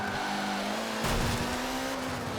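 A race car in Forza Motorsport 7 drives under a steady engine drone with a sustained tonal whine, loud and close, broken by a brief rougher surge midway as tires scrub, with no voices present.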